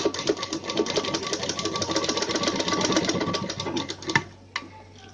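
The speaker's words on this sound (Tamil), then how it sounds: "அப்படியே சமப்படுத்தி ஒரு தையல் போட்டுக்கோங்க." Stitching a seam along folded fabric for a smocked neckline, a sewing machine chatters in a fast steady rhythm nearby, then stops abruptly near the end, leaving quiet.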